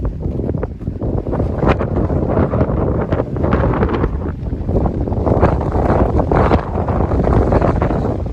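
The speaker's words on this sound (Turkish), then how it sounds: "Rüzgarı görüyorsunuz." Strong wind from a hail and rain storm roars and buffets the microphone continuously, a loud rushing gust-driven noise with no voices.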